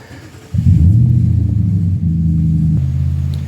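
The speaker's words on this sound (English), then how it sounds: "Emily was starting a truck and it's a little bit loud" A truck engine starts nearby, a sudden loud low rumble that settles into a steady idle with a slight drop in pitch, no speech over it.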